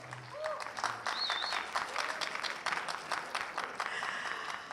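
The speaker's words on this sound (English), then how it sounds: "Give a round of applause." Audience applauding a performing group at a cultural diversity gala night ceremony, a dense crowd clapping with some scattered cheers and whistles over a steady roar.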